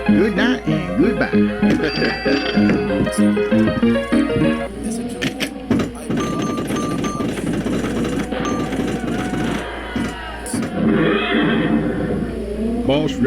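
Several horses in a video game neigh and whinny loudly in overlapping calls, with snorts and clattering movement, and voices talking partway through.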